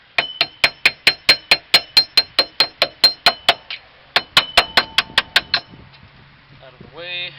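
A hammer drives a bolt out of the independent rear suspension of a VW Baja Bug, a fast, even run of about twenty ringing metallic strikes, a brief pause, then another quick burst, close and loud.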